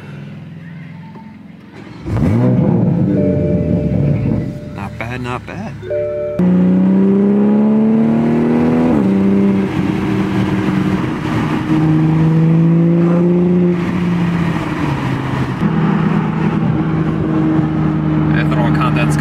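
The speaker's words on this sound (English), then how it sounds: "One of the last warm starts with this exhaust." A Toyota Supra fitted with a Tomei exhaust starts up with a loud burst, then idles and revs repeatedly, its exhaust note rising and falling close to the microphone, with brief talking near the end.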